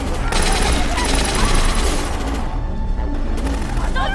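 Bursts of police gunfire ring out in a Korean drama heist scene, a loud, dense volley of rapid shots and sharp cracks packed together with crashing noise behind them.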